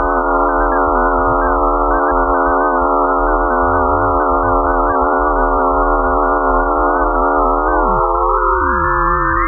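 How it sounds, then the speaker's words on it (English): Radio signals from the Martian moon Phobos, picked up by the Mars Express spacecraft and turned into sound, form a loud, steady stack of eerie sustained tones with a low rumble beneath them. Near the end, some pitches bend and glide. "This is the sound of Phobos."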